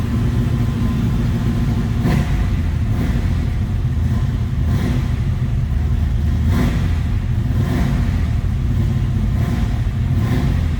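A 1980 Chevrolet Camaro Z28 with a four-speed manual sits idling, a steady low rumble running throughout with faint periodic pulses and no talk over it.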